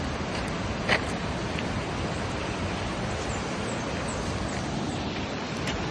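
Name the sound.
Piduan Falls waterfall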